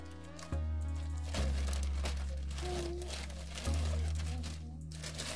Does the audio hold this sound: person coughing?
no